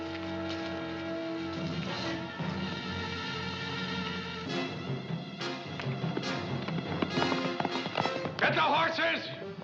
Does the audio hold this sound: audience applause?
no